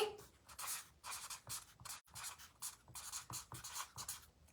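Marker pen strokes scratching across paper in quick, repeated bursts, close and fairly loud, with brief pauses between words being written and no talk over it.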